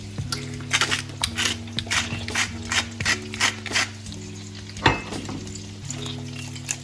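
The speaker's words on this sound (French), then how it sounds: "Et là, on mélange bien le tout." A tomato sauce mixture with oregano, salt and pepper for meatballs being stirred in a hot pan, with a constant close sizzle under repeated rhythmic scraping and clinking strokes of the utensil.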